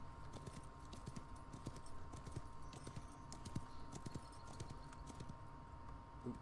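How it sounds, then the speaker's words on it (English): Horse hooves clip-clop steadily and continuously through a Wild West Online game scene, a rhythmic stream of soft knocks over a constant hum with a faint murmuring background. "Ooh, is that a horse?"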